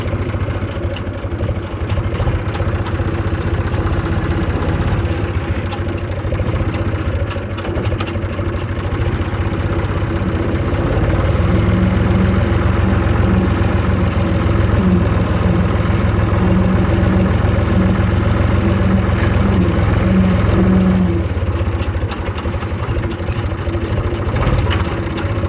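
A Zetor 3320 farm tractor engine idles with a steady, loud diesel chug close by. Partway through, a low mechanical hum joins in and then fades near the end.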